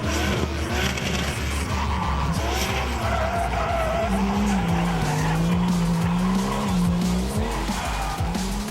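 Tyres of a turbo Opel Zafira drift car skid and squeal on a tight, technical track, a loud continuous screech with wavering pitch over steady engine roar, close up throughout.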